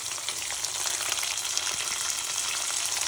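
Capsicum fries in a hot pan for temple-style chitranna, a steady, bright sizzle that holds close and even throughout, with no talking.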